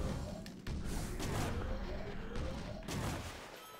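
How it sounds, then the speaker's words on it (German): Cannons fire in the video game Okami HD, a dense rumble of low booms and crashes with brief whooshes, sustained and fairly loud over nearly four seconds, no talking. "Meine Güte, diese scheiß Kanonen."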